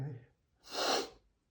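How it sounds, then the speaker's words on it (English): A man in the middle of a desperate sneezing fit lets out one loud, close sneeze after a short breath, with nothing else around it. "I sneeze so much every single day."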